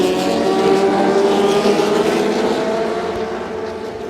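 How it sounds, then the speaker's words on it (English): Historic Formula 2 race cars forming up for a rolling start at Silverstone, a loud, steady multi-engine drone with layered exhaust tones that eases slightly toward the end. "the cars forming up and getting ready for the rolling start here."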